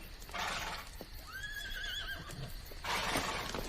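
A horse gives a clear, rising whinny in the middle, with rustling and outdoor noise around it and bursts of louder movement before and after, in a Western film.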